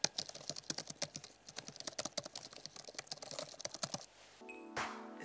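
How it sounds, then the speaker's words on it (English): Rapid, uneven clicking of laptop keys being typed on up close, a quick pattering run that stops abruptly, followed by a brief different sound. "the keyboard, it's so satisfying"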